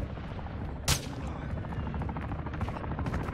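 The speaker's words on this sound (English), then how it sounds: "Helicopter." Continuous rotor thrum of a helicopter in the Call of Duty DMZ game, a loud steady chopping drone with a sharp gunshot crack near the start.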